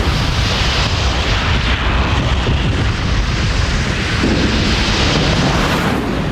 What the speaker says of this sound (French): On entend l'explosion, mais on ne la voit pas.